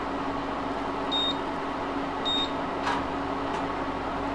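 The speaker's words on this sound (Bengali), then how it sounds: "সো আমরা এখানে ইন্ডাকশানটা অফ করে দিচ্ছি" Two short, clear electronic beeps sound about a second apart as an induction cooktop is switched off, over a steady background hum.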